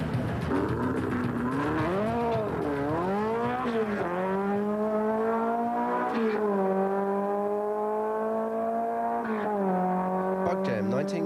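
Volkswagen off-road racing cars rev at Bugjam 1990 at Santa Pod Raceway, Bedfordshire, their engines rising and falling in pitch in loud, sustained blasts with several sharp throttle swells over a continuous outdoor din.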